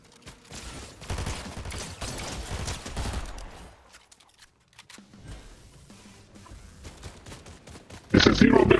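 Gunfire in Fortnite, with clusters of rapid shots mixed with game effects and talk, a lull midway, then a loud, dense burst of fire at the end.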